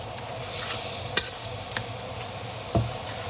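Minced pork being stir-fried in a pan, breaking up clumps, with a continuous sizzle and a few sharp scraping knocks of the utensil against the pan.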